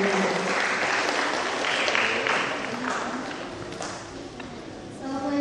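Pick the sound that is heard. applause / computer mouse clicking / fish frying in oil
applause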